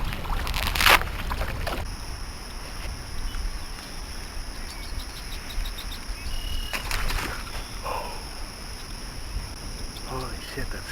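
Small boat trolling slowly through shallow lagoon water, with a steady low motor and water wash running continuously and fairly close, a few brief bird or splash sounds rising over it.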